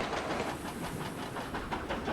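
Steam train rolling past across open countryside, a steady loud rumble with a regular clickety-clack of wheels over rail joints throughout, no voices.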